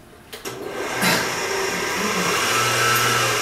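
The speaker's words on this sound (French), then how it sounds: "vous allez augmenter la vitesse de votre batteur" Electric stand mixer beating cake batter in its bowl, starting with a few soft clicks before the motor spins up into a steady, moderately loud whirring hum that holds to the end.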